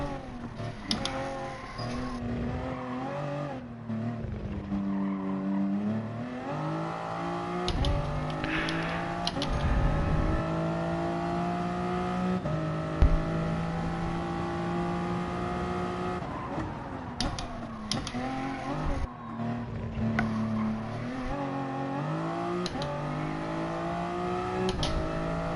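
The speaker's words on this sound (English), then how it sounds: "It's my first time in a Group 3 car in a while" A Group 3 race car in the Gran Turismo Sport video game, its engine droning and shifting pitch steadily through revs and gear changes, with tyre noise, heard loud and close throughout with no talking.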